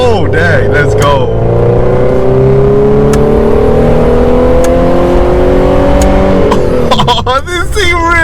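A Mercedes 190E sedan's engine revs hard and climbs in pitch as the car accelerates, loud and close, then eases off near the end.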